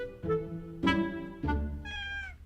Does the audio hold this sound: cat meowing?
yes